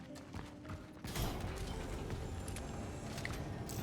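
Mechanical clicks, creaks and ratcheting parts as a pistol is upgraded in the video game Cronos: The New Dawn, quiet at first and then a fuller, steady layer of metallic handling noise for a few seconds.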